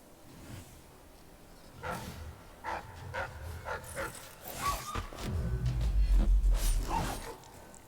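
Several dogs bark in the video game Dishonored: Death of the Outsider, a series of sharp barks at a moderate distance that build into a louder, rumbling stretch near the end.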